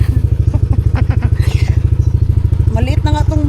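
A small motorcycle engine idles close by with a steady, rapid thumping putter that runs loud throughout, while light clattering and faint voice-like sounds come and go over it.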